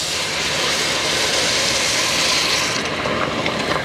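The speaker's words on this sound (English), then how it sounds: "It's deglazing the pan, that's where all the flavour is." Veg stock hitting a hot pan of caramelised mushrooms, with a steady loud sizzling hiss throughout and faint scraping underneath as the mushrooms are worked loose.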